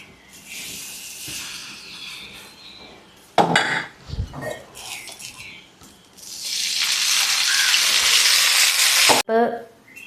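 Dosa batter sizzles on a hot pan with scraping and clattering of utensils, a steady loud hiss rising after a burst of metal clinks and stirring.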